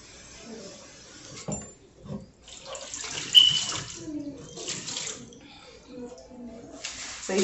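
Tap water pours and splashes into a metal cooking pot being filled for noodles in a home kitchen, a steady rushing stream that rises and falls as the pot shifts.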